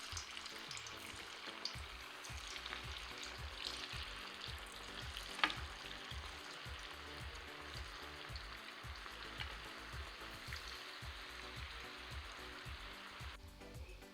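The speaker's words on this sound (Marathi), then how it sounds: "आपलं तेल छान तापले आपण गॅस थोडासा मिडियम करू आणि हे पकोडे छान असे डीप फ्राय करून घेऊ" Moong dal pakoras deep fry in hot oil over medium heat, a continuous soft bubbling sizzle with occasional pops, close and steady, with no voices.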